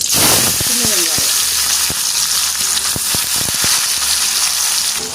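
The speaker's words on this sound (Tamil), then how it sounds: "இதுல நெத்தலி மீன் பொரிச்ச எண்ணெயிலேயே தாளிக்கிறேன்" Fenugreek, dried red chillies and shallots tempering in oil left from frying anchovies, a loud steady sizzle with stirring clicks and scrapes throughout, and a voice briefly heard near the start.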